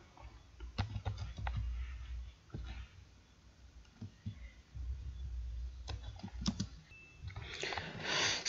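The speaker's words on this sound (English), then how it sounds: "once you are through with the typing of the words" Lyrics being typed on a computer keyboard: irregular bursts of close, crisp key clicks with short pauses between runs, quiet and with no voice.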